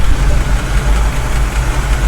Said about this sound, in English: A little lifter tick.